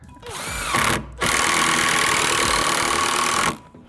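A power drill drives long screws into door framing, running loud and steady with a brief pause near one second before the motor winds up again and stops.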